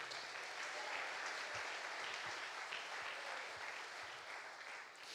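Church congregation clapping together, a continuous, moderately distant wash of applause with a few sharper individual claps standing out, no speech on top.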